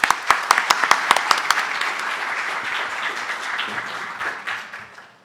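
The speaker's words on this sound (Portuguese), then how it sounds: "só pedir mais uma salva de palmas para o nosso palestrante" Audience applause for a speaker at the end of a lecture at an academic event. Sharp individual claps open, then a dense round of clapping that fades out over about five seconds, with no talk over it.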